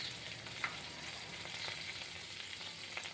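A tablespoon of shahi jeera fries in melted butter in a pan, producing a soft, steady sizzle with faint crackles and a light tap or two, heard close and alone.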